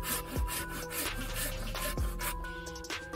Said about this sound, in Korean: 작은 톱으로